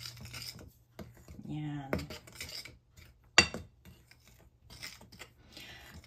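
Dry ingredients for a banana apple cake (baking powder, baking soda, cinnamon and salt) being mixed in a bowl: soft intermittent scraping and rubbing with a few light clinks and one sharper knock, fairly quiet, with a brief voice.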